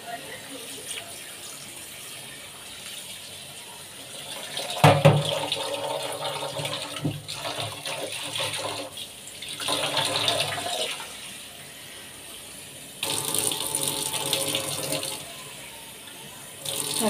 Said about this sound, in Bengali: ফ্রাইড রাইসের চালটা দু তিনবার পরিষ্কার করে ধুয়ে নিতে হবে।